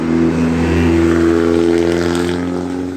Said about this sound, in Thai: ตอนนี้เสียงรถนี่ดังมากเลยนะครับ